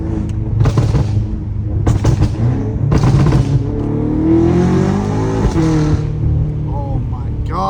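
A straight-piped BMW M5 Competition barks through sharp exhaust blips, then a long loud rising pull as it accelerates, its raw rasp close and dominant, with a voice breaking in near the end.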